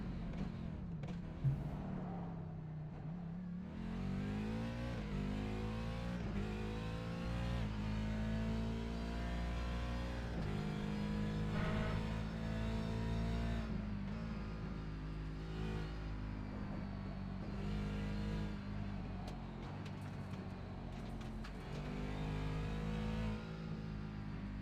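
Race car lapping Circuit of the Americas in an American Sports Car Series round, engine loud and steady with repeated accelerations, shifts and downshifts through the corners, heard from onboard with no talking.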